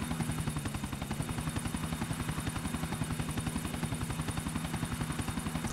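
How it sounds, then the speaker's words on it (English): A helicopter in the video game GTA The Ballad of Gay Tony drones steadily with fast, even rotor thumps and a constant engine whine throughout, with no talk. "I will fly chopper."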